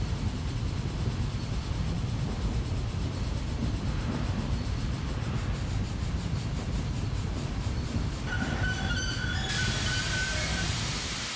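In Train Simulator, a BR10 train on the Hamburg–Hanover line rumbles steadily along the rails, then a high, thin wheel squeal rings out near the end over the rolling noise.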